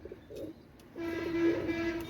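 Pigeons sold as Pakistani KTM pure breed coo softly and nearby, a low steady murmuring call with a faint background hum and some ambient noise.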